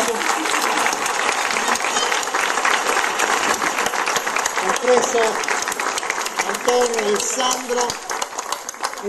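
A theatre audience applauds with sustained, dense clapping that fills the room, with a voice speaking over it.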